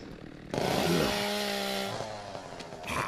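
A chainsaw revs loudly and up close in the video game The Walking Dead: Saints & Sinners: Retribution, a sudden roaring burst that holds steady, then eases to a lower idle with no talking.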